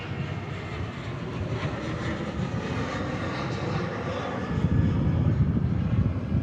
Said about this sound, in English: There goes Virgin Australia there, 737 out the door.